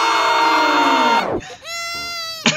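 A baby screams loudly in an animated comedy: one long, piercing wail that slides downward and breaks off, then a shorter, higher cry after a brief gap.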